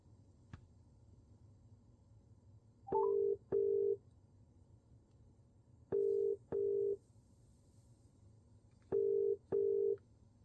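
Telephone tones play through a BYD Seal's infotainment display running Android Auto via a Carlinkit adapter during a call test, coming in three evenly spaced pairs of short, steady beeps over faint background hum.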